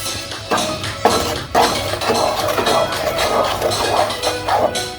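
Pineapple mango jam is stirred in a pot over medium heat, the spoon scraping and clinking against the pan in steady, continuous strokes with a few sharper knocks, fairly close and clear.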